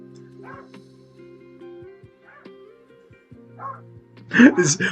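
Dogs indoors give soft whimpers and faint yips, then break into a sudden burst of loud barking near the end.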